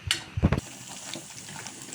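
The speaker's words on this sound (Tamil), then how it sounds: "அதுக்கப்புறம் புளித்தண்ணி ஆட் பண்ணிக்கலாம் புளித்தண்ணி இங்கே ரெடியாக இருக்குது" Tamarind water is poured into spinach cooking in masala, giving a quick close splash that is over in under a second, followed by a faint simmering hiss.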